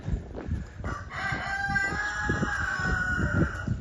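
A rooster crows with a long drawn-out call on a village main street along the Camino Francés, with other farmyard fowl clucking and calling around it.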